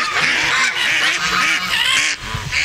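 Ducks quack repeatedly on a farm among geese and other fowl, loud and close with a busy chorus of honks and calls throughout.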